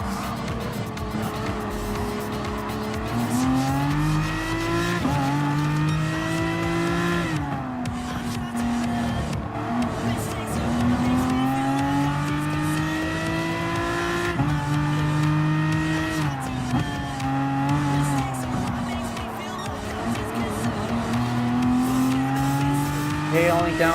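Group 3 race cars lapping a circuit in Gran Turismo Sport, engines droning loudly and continuously with rising and falling pitch through gear changes, tyres squealing at times, no voices.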